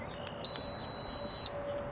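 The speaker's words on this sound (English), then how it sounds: "And that beep should be all it takes." A single clear electronic beep from an RV door latch receiver after a key fob lock press, steady and high-pitched, lasting about a second in a quiet room with faint clicks before it.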